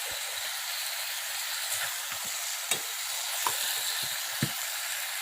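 Cucumber pieces seasoned with salt are stirred in a frying pan for an Assamese cucumber khar, giving a steady close sizzle with a few soft scraping knocks of the utensil and no talk.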